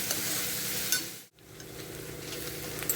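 Puffed rice tempering frying in a pan for a village-style tiffin, a steady soft sizzle and crackle with brief stirring scrapes and a momentary dip in the middle.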